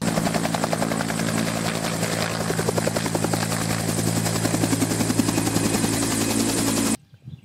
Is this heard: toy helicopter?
yes